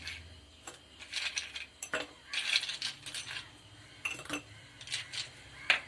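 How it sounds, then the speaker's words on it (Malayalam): Two ice cubes drop into a glass of grape juice, producing a series of faint, sharp clinks and knocks scattered irregularly over a quiet background. "2 ഐസ് ക്യൂബ് ഇട്ട് കൊടുക്കാം."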